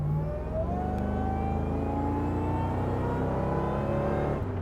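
A 1999 Ford Lightning SVT pickup accelerates hard, its engine note climbing steadily in a loud, continuous rising roar that holds for several seconds before easing off at the end.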